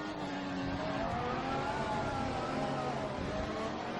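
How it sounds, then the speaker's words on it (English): Formula One car engine in the racing game F1 2014 whines steadily at high revs, a continuous loud buzzing drone with shifting pitch as the car runs through traffic. "The engine sounds great."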